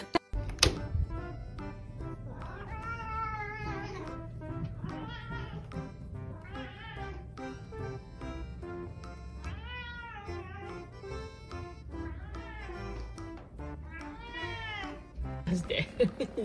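A cat meows repeatedly, close by, giving a series of drawn-out, wavering calls spaced a second or two apart over a faint background.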